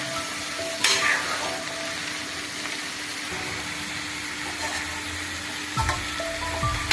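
Food sizzling in a pan with a constant crackle, broken by a couple of scraping stirs from a utensil; no talking.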